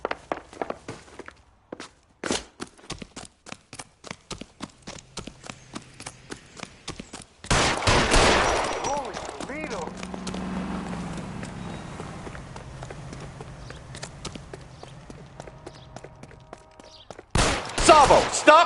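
Gunfire in a PS4 game rings out as a fast run of sharp cracks, then a big blast with a long rumbling decay and another burst of shots near the end. Footsteps are also audible, and voices can be heard.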